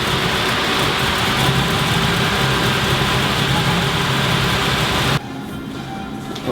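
A Land Rover 90 V8 running on a newly fitted ignition coil: a steady, loud idle rumble held evenly for several seconds, then dropping abruptly to a much quieter level near the end.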